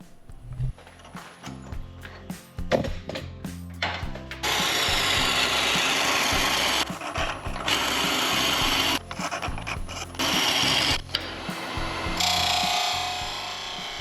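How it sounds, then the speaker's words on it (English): Grinding, rasping noise of a drill bit boring into a spinning colored-pencil blank on a wood lathe, starting with knocks and scrapes, then a long steady harsh whir broken by brief pauses. "I absolutely love watching the drill bit work on the lathe."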